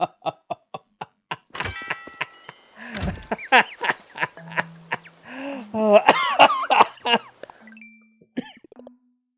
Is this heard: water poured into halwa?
no